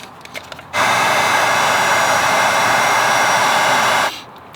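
A heat gun warms solder on a wire splice for a traction control off switch on a first-generation Toyota Sequoia, blowing as a loud, steady roaring hiss for about three seconds, close up, with quieter clicks before and after.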